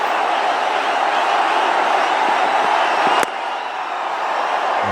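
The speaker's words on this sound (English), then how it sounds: "And you can see the crowd now. They're all getting into the act." A cricket crowd roars for MS Dhoni at his home ground, a loud, steady wash of cheering and whooping that dips slightly near the end.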